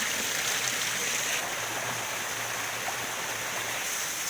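Steady broadband rushing of Little Falls at Alegria Falls, a waterfall feeding a clear stream, heard as a continuous even roar with no voices.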